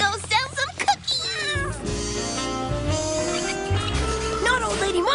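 A cartoon cat meows several times in a series of short, bright cries, mixed with background music and voices talking.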